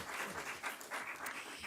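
Applause for the regional council president at the Prosciutto Veneto DOP festival in Montagnana, a brief, fairly faint burst of crowd clapping in uneven pulses.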